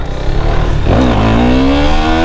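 KTM Duke 390 motorcycle engine revving up sharply during wheelie practice, a close, loud rising note that climbs and holds near the end.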